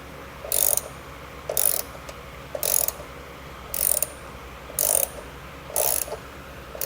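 A ratchet wrench clicks in six evenly spaced bursts as it chases the threads of a frame weld nut on a 2013 Honda Odyssey during a trailer hitch install, loud and close with no talking.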